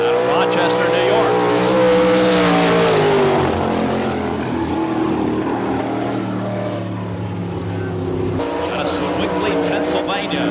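Sprint car engine roaring past on the dirt track at Barberville, Florida during an All Star Circuit of Champions qualifying lap, a loud sustained drone that rises and falls in pitch as it passes, with an announcer talking over it.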